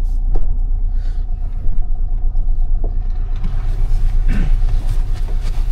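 A road vehicle rumbles up close with a steady low engine drone, its sound growing slightly rougher toward the end, with no talking.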